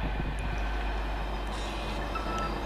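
Great Northern class 365 electric train 365509 pulling out of St Neots station on a Peterborough to London King's Cross service; a steady, fairly loud broadband rumble continues throughout with no talking.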